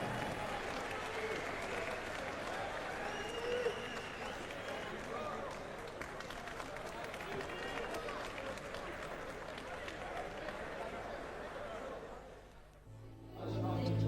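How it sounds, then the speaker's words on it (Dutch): A crowd applauds kickboxers Drago and Veselic at a 2003 fight prize ceremony. Sustained, dense clapping and cheering continue under murmured voices, then thin out and fade near the end. "En dames en heren, geef ze een hartelijk applaus."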